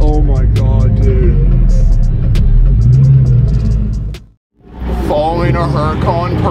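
Ford GT growling and revving as it follows a Lamborghini Huracan Performante, the engine note rising and falling, briefly cutting out before building again, with excited voices talking over it.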